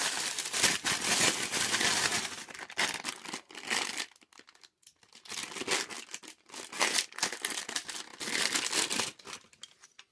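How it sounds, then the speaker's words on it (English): Plastic packaging crinkles and tears as a Temu Lego-style weapons box is ripped open, in loud, close bursts with short pauses between them. "So let's rip this open."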